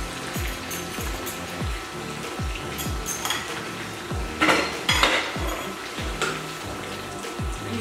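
A utensil scrapes and clinks rhythmically against a metal pot while stirring egg poured in with chicken, steady repeated strokes with a brief louder clatter midway.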